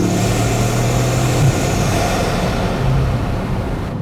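Bugatti supercar engine droning steadily up close, a continuous loud mid-low roar with a slight swell in the middle and no speech over it.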